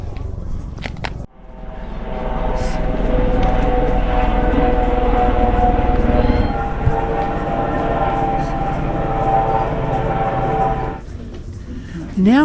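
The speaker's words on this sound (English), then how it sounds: "Now that the plane noise has disappeared" A plane passes overhead on a hot day in South Perth, Western Australia, a loud broad roar that swells in abruptly, holds steady for about ten seconds with a droning hum, then drops away.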